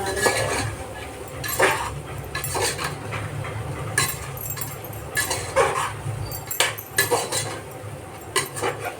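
Soya chunks are stirred in a metal pan with a spoon, giving repeated scraping clanks and clinks in an irregular rhythm over a low background hum.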